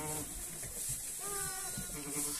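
Newborn lambs on a sheep farm bleat in a few wavering cries, the clearest one drawn out in the middle, close by over rustling barn noise.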